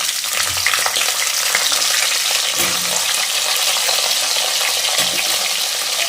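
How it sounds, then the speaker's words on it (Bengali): Cauliflower florets fry lightly in a pan with white cumin seeds, a loud, continuous close-up sizzle with a few soft thuds of stirring. "ফুলকপিটা হালকা একটু ভেজে নেব"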